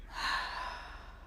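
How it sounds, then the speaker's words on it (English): A single slow, deep breath is released during a guided breathing exercise, a soft airy rush that swells and then gradually fades, alone and close. "Slowly take a deep breath in. Hold the breath. And exhale."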